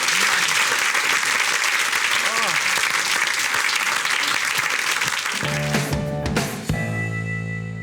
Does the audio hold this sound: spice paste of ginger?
no